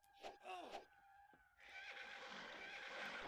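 In the fantasy strategy game Battle for Wesnoth, a horse lets out a quiet, strained whinny as its unit dies. A few short neighing bursts are followed by a soft, breathy fade.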